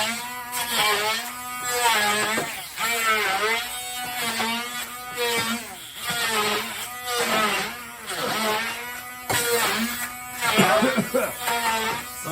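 A blender held on turbo whirs loudly in repeated surges while chopping fermented hot peppers, with a person talking over the motor throughout.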